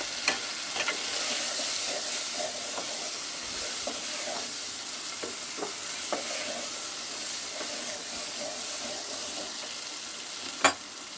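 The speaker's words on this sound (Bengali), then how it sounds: "সব মশলা দিয়ে আমি সবজিটা কষিয়ে নিচ্ছি।" Vegetables and spices sauté in a pan with a steady, even sizzle, broken by occasional scrapes and clicks of stirring and one sharper knock near the end.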